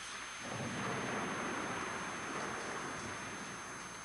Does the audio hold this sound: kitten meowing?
no